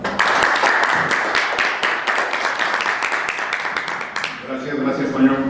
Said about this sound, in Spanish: vamos a darle un aplauso para empezar y que disfruten su charla